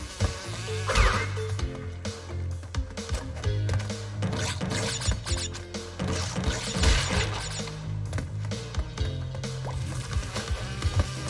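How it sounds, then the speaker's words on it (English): Buzzing of bees in the Crash Bandicoot 2 video game, a steady insect drone running under dense game music and effects with scattered crashing hits. "Now we're at the bees."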